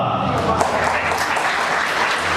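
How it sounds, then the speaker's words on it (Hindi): An audience at a digital awareness event in Jamshedpur breaks into sustained applause to welcome the host, a dense, even wash of clapping with voices faintly underneath. "तो जोरदार तालियों से स्वागत हो मेरी खूबसूरत को होस्ट बारबी का।"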